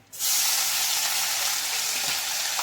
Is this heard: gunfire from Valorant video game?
no